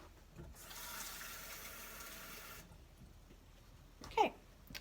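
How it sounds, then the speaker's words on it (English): Water runs from a tap into a 3/4 cup measuring scoop in a home kitchen, a soft steady hiss lasting about two seconds, followed by quiet handling noises and a short voiced sound. "I'm going to go fill this up with water"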